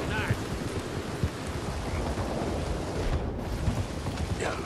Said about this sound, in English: It's raining sideways right now.